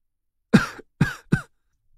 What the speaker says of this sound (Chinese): 一道咳嗽声传来